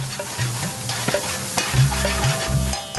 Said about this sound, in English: The chef fries some onions and some chilli in a large frying pan.